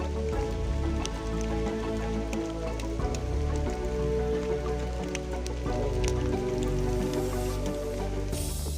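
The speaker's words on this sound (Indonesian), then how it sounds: "Kali ini hujan sedikit agak reda." Rain falls steadily on the trail while hiking Mount Ciremai via Palutungan in Indonesia, a dense patter of drops hitting leaves and wet ground throughout, close and even with a few sharper splats.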